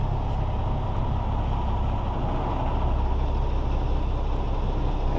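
A tractor-trailer truck engine rumbling low and steady while the rig reverses slowly, a continuous deep drone with no distinct events.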